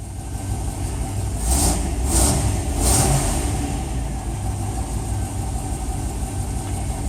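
A Chevy SBC 355 small-block V8 in a truck with port fuel injection, idling with a loud, close rumble and blipped in three quick revs early on before settling back to a steady idle.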